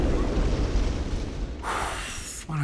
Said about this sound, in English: but the bloody explosion